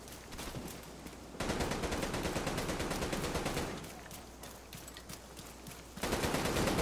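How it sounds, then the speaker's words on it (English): Sustained automatic turret machine-gun fire in The Division 2, rapid loud bursts continuing throughout with brief drops in intensity and a heavier stretch returning at the end, no talking. "The enemy turret didn't help."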